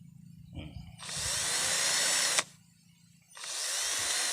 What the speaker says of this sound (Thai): ใช้ดอกขนาดนะครับ 16มิลนะครับ สว่านเดลตันนะครับ สว่านไร้สายนะครับ